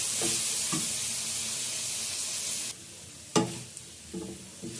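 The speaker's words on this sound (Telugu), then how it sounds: "అలా టమాటాలు వేసుకొని కాసేపు టమాటాలు మెత్తబడేంత వరకు" Tomatoes fry with onion and garlic in a pan, giving a loud steady sizzle that stops suddenly partway through, followed by a few sharp clinks and scrapes of stirring.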